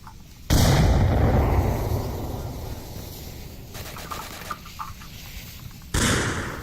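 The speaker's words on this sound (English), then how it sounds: "Pants does some pre-firing with the DMT over in the blue room" DMT rifle shots in the VR shooter Onward, inside a room: a loud sharp report up front, then a decaying echo and quieter clatter, with another loud shot near the end.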